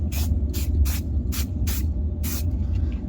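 Primer paint sprayed from an aerosol can in six short, evenly spaced bursts of hiss over a loud low rumble, close by and without talking.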